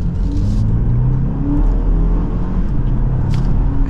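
A 2024 BMW X2 xDrive28i accelerates on the road, its engine a steady, fairly quiet low rumble with light tire and wind noise, building gently without any harsh revving.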